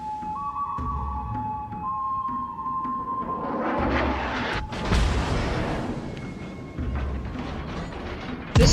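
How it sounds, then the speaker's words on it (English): Heavy naval gunfire from the battleship Hood in World of Warships: a deep booming salvo with rumbling blasts and thuds swelling midway, over a steady low background hum, with a sharp final thump at the end. "we're going to get one more salvo"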